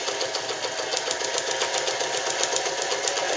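An Alden manual zigzag sewing machine stitches a zigzag pattern, giving a fast, steady mechanical whirr and clatter of the needle that is close and continuous throughout.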